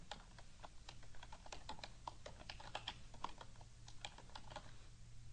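Steady clicking of keys on a computer keyboard as code is typed in a programming tutorial, a quiet, irregular run of close taps with a low electrical hum underneath.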